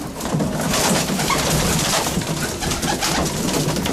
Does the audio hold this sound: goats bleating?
no